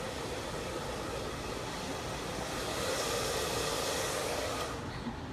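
A professional hair dryer blows a steady, even whoosh of broadband noise throughout, fairly close and moderately loud, with no voices over it.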